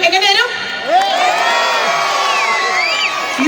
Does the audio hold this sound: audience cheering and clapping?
yes